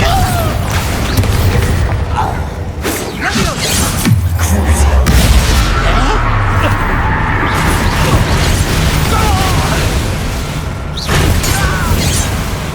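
Spell blasts explode in the video game Hogwarts Legacy, with deep booming bursts and crashing debris over continuous dense game music and effects, while voices speak in the scene.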